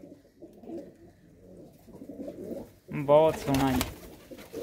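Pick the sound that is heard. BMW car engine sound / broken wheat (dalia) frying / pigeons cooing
pigeons cooing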